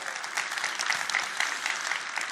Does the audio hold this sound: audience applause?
yes